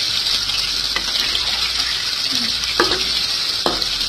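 Chicken pieces fry in hot oil for a pasta dish, giving a loud, steady hissing sizzle with a few brief stirring clatters and no talk.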